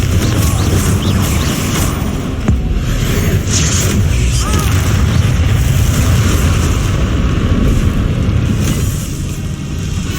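The Confringo blast spell from the video game Hogwarts Legacy erupts in a loud, continuous rumble of booming explosions and crashing battle effects, sustained for about ten seconds.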